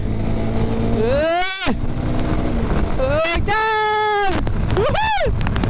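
Modified Bajaj Pulsar 220F set up for touring, ridden at speed on a long road trip: a loud engine whine climbs in pitch again and again as it pulls through the gears, with steady wind roar throughout.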